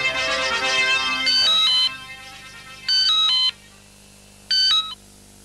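A telephone ringing in a Pakistani TV drama: after a fading musical tone, three bursts of an electronic ring sound out, each a trilling beep sequence separated by pauses, clear and close with no speech.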